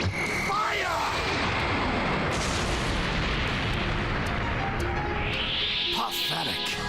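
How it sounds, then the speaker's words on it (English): A pellet gun fires in a Death Battle animation, a dense loud barrage of blasts and booms filling the whole stretch without letup. "Pellet gun, fire!"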